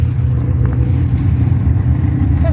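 An old Camaro launches down a drag strip on its first pass, its engine a loud, steady low rumble that fills the whole stretch without a break.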